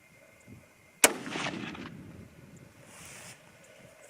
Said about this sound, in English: second shot.